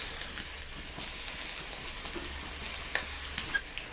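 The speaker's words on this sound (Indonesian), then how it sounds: "Masukkan tempe, goreng hingga tempe kuning keemasan." Tempeh frying in hot cooking oil, a steady soft sizzle with scattered pops and crackles, fairly quiet and continuous throughout with no talking.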